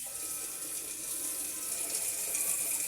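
Masoor and khesari lentils rinsed under a steady, close stream of running tap water into a bowl or sink, the rushing flow continuous and fairly loud throughout.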